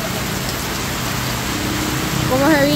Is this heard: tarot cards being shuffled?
no